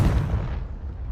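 A Confringo blasting curse explodes in Hogwarts Legacy, a loud low boom with a rumbling, broadband burst that slowly decays over about a second.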